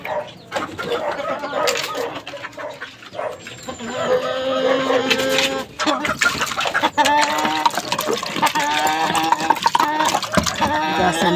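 Fighting roosters bred for cockfighting cluck and crow close by in a busy yard, their calls layered over continuous background noise and voices.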